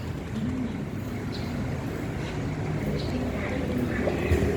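A 2016 Kawasaki Z800 motorcycle engine runs at a steady idle, a continuous low rumble with faint background sounds.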